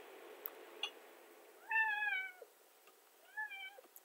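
A Minecraft cat gives two clear meows, one after the other with a short gap between them, heard close and alone over a quiet background.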